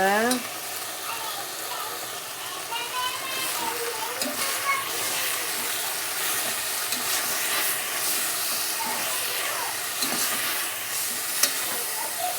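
Tomatoes sizzle steadily in hot oil with fenugreek leaves for methi rice, a dense, even frying hiss with light stirring throughout, while a voice talks over it.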